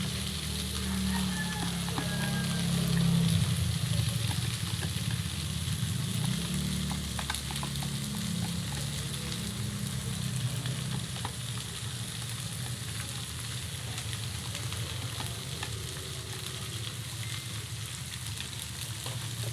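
Tofu sisig with mayonnaise frying in a very hot pan, a dense continuous sizzle like rain that carries on throughout, with faint stirring scrapes and no voices.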